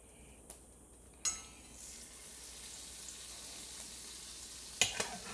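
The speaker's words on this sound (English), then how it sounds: "It's burning there in my pan" Food burning in a frying pan at breakfast gives a quiet, steady sizzle and crackle, broken by a few sharp clinks of metal utensils against the pan near the start and again near the end.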